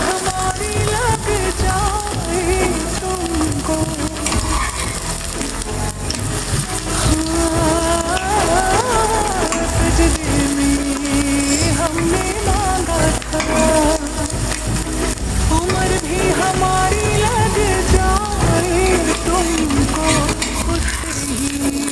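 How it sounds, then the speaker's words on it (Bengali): Aloo puri (potato-stuffed puri) deep-frying in hot oil, giving a steady, continuous bubbling sizzle that holds at an even level across the whole stretch, with a melodic tonal layer running alongside it. "এখন ভেজে নিলেই তৈরি আমাদের আলু পুরি"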